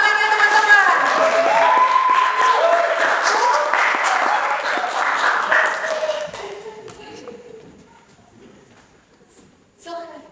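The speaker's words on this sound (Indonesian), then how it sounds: "Tepuk tangannya teman-teman." Audience applause welcoming a guest, Bang Hibratullah Nibras, onto a student association talk show stage: loud, dense clapping for about six seconds, mixed with cheering voices, then fading to a quiet room with a brief clap near the end.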